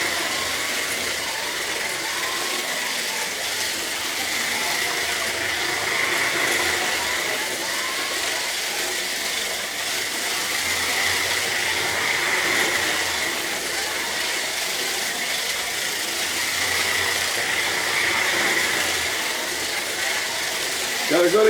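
Carrera slot cars, a Porsche and a Ferrari, race around a toy track with a constant buzzing electric motor whine and whirring wheels, steady and fairly loud throughout.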